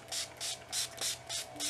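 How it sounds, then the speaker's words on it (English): Urban Decay All Nighter setting spray is misted onto a face in six quick, evenly spaced close hissing bursts, each short and soft, with no voice over them. "Now I'm gonna go ahead and spray my face with the Urban Decay All Nighter."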